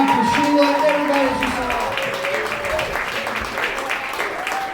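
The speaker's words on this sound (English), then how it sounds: "Give a round of applause for Ron, for Sheila, everybody" Audience at a comedy club applauding, brisk clapping that fades slightly over a few seconds while a voice speaks over it.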